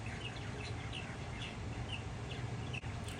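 A young bird calls repeatedly on a summer farm, short high chirps recurring about every half second over steady low background noise, fairly close and with no talk.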